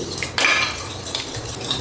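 A metal spoon clinks and scrapes against a bowl in quick, uneven strokes, close by, as thick curd is mixed.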